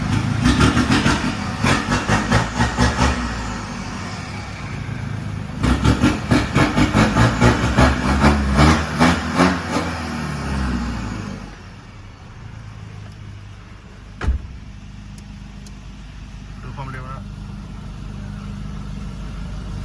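Remapped Chevrolet 2.5 engine running loud with pulsing revs, easing back to a steady, quieter idle hum with one brief knock.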